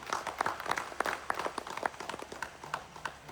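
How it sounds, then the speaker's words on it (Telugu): Audience in a meditation hall at a Pyramid meditation gathering claps in a brief burst of scattered, uneven hand claps, fairly close and moderately loud, with no talking over it. "దానికి పిఎస్ఎస్ఎఫ్ కు ఒకసారి గట్టిగా క్లాప్స్ కొట్టు."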